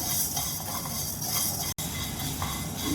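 Black and white urad dal dry-roasting in a pan, giving a steady close scraping and rustling of stirred lentils that continues throughout, with one brief dropout near the middle and no voices.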